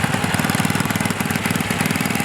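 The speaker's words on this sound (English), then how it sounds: "Yeah, that's a unique form of garden tractor." An antique garden tractor engine built for mowing grass runs at an antique tractor parade, a loud, close, steady chugging idle with a fast even pulse and no voices.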